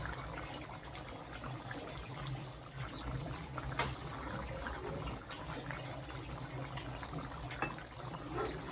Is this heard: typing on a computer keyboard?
no